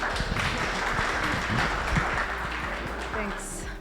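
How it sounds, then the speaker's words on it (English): An audience claps to welcome a speaker at an after-hours fintech talk, a steady crowd patter of hands with some voices murmuring beneath it throughout. "Let's clap for her as she starts."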